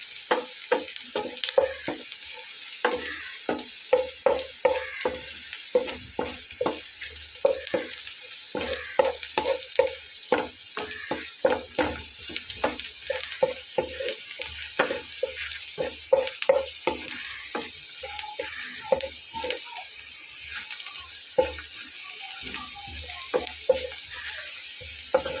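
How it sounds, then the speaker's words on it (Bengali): Whole cumin seeds fry in a pan, a steady sizzle crowded with constant rapid scraping and tapping of a spoon against the pan throughout. "এটা ভেজে নিতে নিতে আমি এর ভেতরে দিয়ে নেব গোটা জিরা"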